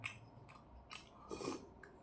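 Someone chews a mouthful of aloo with chutney at close range, a few soft, irregular crunching and smacking bites spaced across a couple of seconds, quiet and with no talking.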